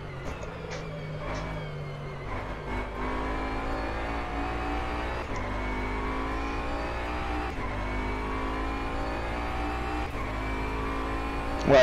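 A Bentley Continental GT3 racing car in the rFactor 2 video game, its engine droning steadily and rising through the revs with brief gear-change dips, loud and continuous with no talking.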